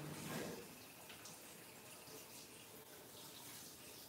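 Kitchen tap running to warm a knife for slicing cake, a quiet, steady stream of water into a sink with a brief louder splash at the start, otherwise even and unbroken.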